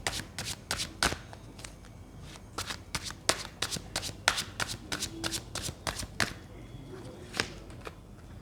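A tarot deck being shuffled by hand up close, a quick irregular run of crisp card riffles and slaps that continues steadily throughout.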